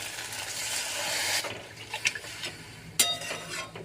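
Water splashes into a pan of soyabean kofta curry masala, a brief rushing pour at first, then hissing and scattered stirring clinks and sputters, close and moderate.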